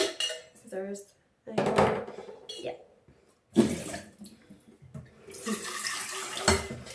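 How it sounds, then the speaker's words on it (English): Dishes clinking and being rinsed under a running kitchen tap before breakfast, with intermittent clatter and water noise in bursts close by, and a voice speaking briefly between the sounds. "I'm actually just gonna quickly rinse these out, just because the water's been in them a few days"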